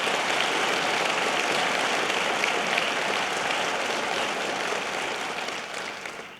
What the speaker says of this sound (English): Let's give your governor a great round of applause for what he does for us.